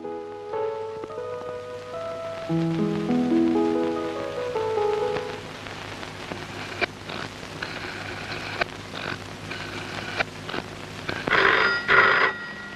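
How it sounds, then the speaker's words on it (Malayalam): An old-fashioned telephone bell rings insistently in a domestic film scene, following a descending musical phrase, with repeated bursts growing louder toward the end and no talk over it. "രജനി, ചേട്ടനായിരിക്കും, ഫോൺ എടുത്തു."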